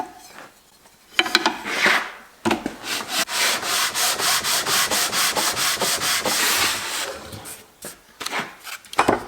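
The edge of an oak casement window being sanded by hand with sandpaper: a fast run of rhythmic rasping back-and-forth strokes, close and loud, with a few scattered strokes and pauses before and after.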